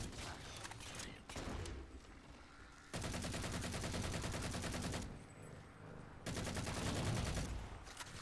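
Gunfire from the video game Halo 4 comes in rapid automatic bursts, dense rattling volleys that start and stop with short pauses between them, loud and continuous during each burst.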